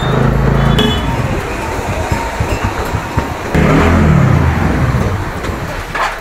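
A car moves slowly into a parking area near Sonprayag, with a steady engine hum and road rumble, a few small clinks, and voices talking over the noise.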